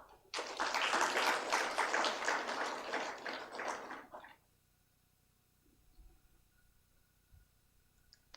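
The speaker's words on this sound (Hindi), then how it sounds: "तालियां बजती रहें।" Audience applause at a World Cancer Day program, a burst of many hands clapping for about four seconds, then fading to near silence with a few faint taps.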